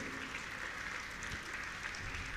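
A crowd at a religious gathering claps to honour guests, a faint, even patter of many hands heard from a distance.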